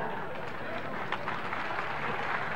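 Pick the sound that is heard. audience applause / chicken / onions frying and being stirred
audience applause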